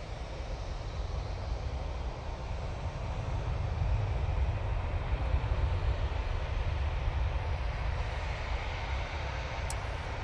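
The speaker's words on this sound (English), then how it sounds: "Dreamliner from Bridgetown now coming in" Boeing 787 Dreamliner arriving at Manchester Airport, a broad steady roar of jet engines that swells slightly and holds, heard from a distance outdoors with no talk.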